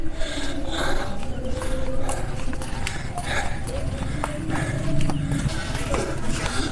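Cattle hooves thudding across ground as the animals run nearby on a farm in Vietnam, with snorts and outdoor commotion, and voices talking over it.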